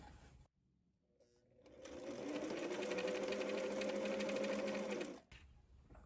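A sewing machine stitches piping onto a 1950s wiggle dress, starting after a short pause and quickly reaching a steady, even whirring run of rapid needle strokes. It stops abruptly near the end, close and alone.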